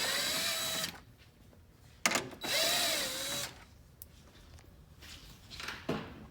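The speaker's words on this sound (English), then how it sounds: "you'll use a 10mm socket to remove the screws." A power tool fitted with a 10mm socket runs in short close whirring bursts while removing screws during a bumper install on a third-generation Tacoma, with clicks and handling noises between bursts.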